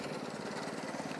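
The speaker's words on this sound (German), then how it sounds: "jetzt mähen wir mit dem Köppel" Köppel mower cutting grass in an orchard meadow on the first cut of the season, a close, loud, steady engine drone with a fast rhythmic throb and no talk.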